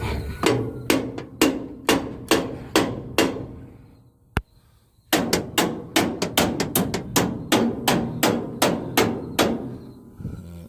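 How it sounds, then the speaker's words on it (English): Sharp, ringing hammer blows on metal, tapping out a combine's rotor cage, in a steady rhythm, two runs of strikes separated by a short pause. "We get a hammer, tap on it."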